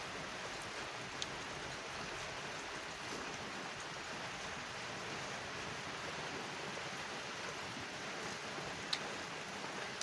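Steady rain falls and patters on surfaces, a dense, even hiss with occasional sharper drops, with no voices.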